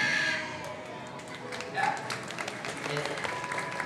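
Audience at a bird show at Disney World in Florida applauding from a distance, light, scattered clapping sustained for a few seconds under faint background talk.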